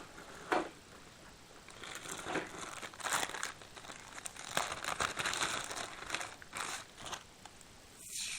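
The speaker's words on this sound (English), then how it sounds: "So I'm going to take some chamois tape." Chamois tape being handled on a Monogram 1:48 B-24J Liberator model, a quiet, steady crinkling and crumpling with soft scattered crackles, close and alone, no talking.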